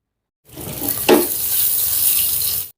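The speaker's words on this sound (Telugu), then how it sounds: "ఇప్పుడు వీటిని 1 నిమిషం పాటు ఫ్రై చేసుకుందాం." Eggs sizzle steadily in a hot pan with turmeric, chili powder and salt, one brief louder hiss or stir midway, with no voices.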